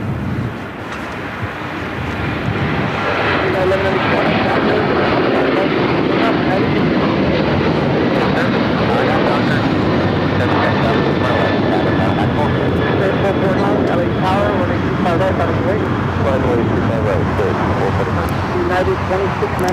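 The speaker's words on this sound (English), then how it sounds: "That was United Airlines heading to Houston, Texas, the 737-900ER" A United Airlines Boeing 737-900ER jet takes off at LAX. Its engines build into a loud, sustained roar that holds steady for about twenty seconds while voices talk over it.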